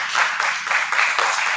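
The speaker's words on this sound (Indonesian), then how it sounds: "Coba di aplaus untuk kelompok 1 ini" Audience in a classroom applauding a student group after their presentation, a brisk burst of many hands clapping in uneven pulses for over a second, moderately loud and without voices.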